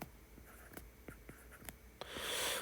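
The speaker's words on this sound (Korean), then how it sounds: "여기 옆에다가 조립제법 좀 써볼게요." Chalk or marker writing on a board during a Korean math lecture, a series of short scratchy strokes and taps, close and clear, ending in a longer continuous rubbing stroke.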